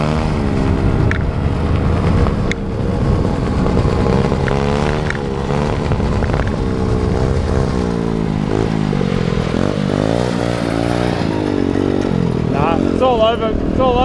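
A Honda Zoomer mini bike engine revs loud and close as the rider pulls away, its buzzing pitch climbing and wavering, with voices talking over it throughout.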